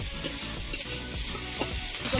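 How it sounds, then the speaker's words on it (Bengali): Onion frying in hot oil with a five-spice tempering, a dense close sizzle with short stirring scrapes every half second or so, alone without voices. "তেল দেওয়ার পরে একটু পেঁয়াজ ফোড়ন দিয়েছি, পাঁচ ফোড়ন দিয়ে পেঁয়াজটা দিয়ে দিয়েছি।"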